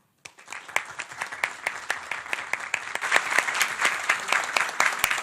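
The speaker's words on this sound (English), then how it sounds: "Can we please give an applause to Ikhlas?" Applause begins abruptly after a brief silence and builds for a speaker at a United Nations conference in New York, with sharp distinct claps standing out over a growing crowd clapping that grows louder.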